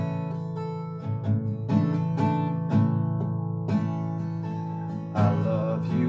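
Acoustic guitar strums Goodness of God in steady eighth notes, accenting the beat and building in intensity. The chords ring full and close, with no voice over them.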